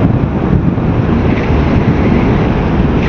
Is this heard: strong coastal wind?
yes